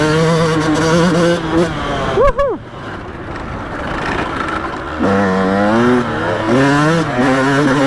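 A 2001 Yamaha YZ125 dirt bike rides laps, its engine revving and rising and falling in pitch, loud and steady throughout, with a brief sharp blip near the middle.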